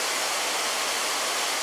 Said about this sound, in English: We've walked our way right to the bottom of the High Falls Rapid